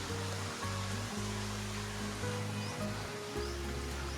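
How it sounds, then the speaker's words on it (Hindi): Water gushes out at Rukmini Kund, a small shrine spot, in a continuous rushing flow with a low, steady hum beneath it, close and without talk. "यहाँ पे भी देखिए ये पानी ये निकल रहा है।"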